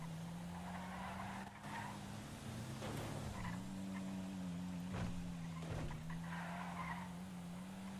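A car driven in the game GTA, its engine holding a steady droning hum with a few tire squeals and skids scattered through, close and continuous with no talk.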